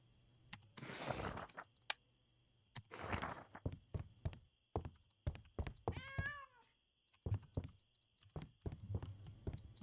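A cat meows in a farming video game, several short clear mews scattered among soft thumps and taps, with one rising and falling meow near the middle, all fairly quiet over a low hum.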